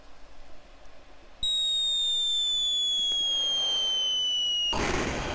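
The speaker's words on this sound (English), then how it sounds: "We'll fire a test shot there" An artillery shot in the Commodore 64 game Artillery Duel: a descending electronic whistle tone falls steadily for a few seconds as the shell flies, then ends in a loud burst of explosion noise.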